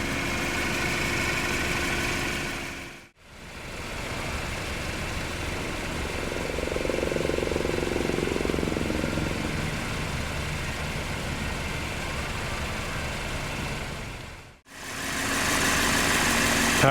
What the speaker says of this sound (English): Powering the ATS here is the mainstream engine. It's a 2-liter turbocharged 4-cylinder